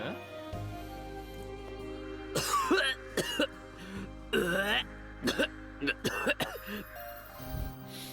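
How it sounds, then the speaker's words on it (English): A character in the video game Iwaihime hacks, coughs and chokes in a string of harsh, uneven bursts over a low sustained musical drone, with voiced rasps between the coughs. "Sho kept hacking and coughing as though he was choking on his own spit."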